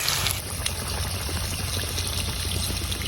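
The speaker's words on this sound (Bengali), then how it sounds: "জল দিয়ে দিলি নাকি তাহলে? দিয়ে দিলাম জল।" Water pours steadily into a pot of desi chicken cooking with cumin and dried chili powder, a continuous close splashing rush with a brief louder start.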